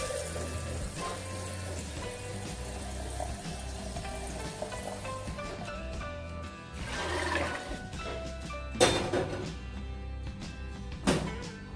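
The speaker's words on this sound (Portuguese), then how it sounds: "Vou colocar mais água aqui." Water pours steadily into a cooking pot of peanuts being boiled, a continuous splashing, rushing flow that grows brighter and more turbulent near the end.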